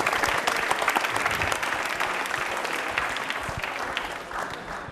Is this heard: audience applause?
yes